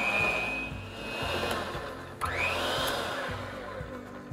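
A stand mixer or hand mixer whirs steadily through cookie dough tinted with green food coloring for mint chocolate chip cookies, with a faint rhythmic low-end churn, a brief clatter midway, and no talking.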